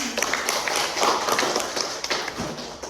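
Applause for a student presenting group in a classroom, a dense patter of hand claps and taps close by, steady for about three seconds.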